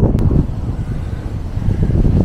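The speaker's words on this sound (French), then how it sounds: "Il y a un vent de malade." Strong wind buffets the microphone outdoors in Romania, a loud, constant low roar with gusty swells throughout and no talking.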